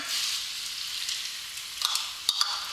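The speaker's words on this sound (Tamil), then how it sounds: "தக்காளி இப்போ சேர்த்து வதக்கிடுங்க" Tomatoes sautéing in a hot pan for tomato rice, with ginger-garlic paste already added, a soft, even hiss punctuated by a few light taps and scrapes near the end, close and quiet, with no speech.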